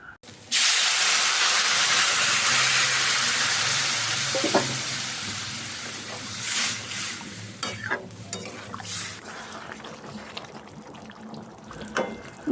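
Warm water poured into a pan of frying spiced taro curry sets off a sudden loud sizzling hiss that holds strongly for several seconds and then slowly fades into softer bubbling and scattered clinks.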